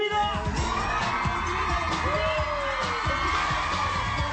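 A studio audience cheers and whoops for an arriving guest, steady dense crowd noise throughout with scattered shouts, close and lively.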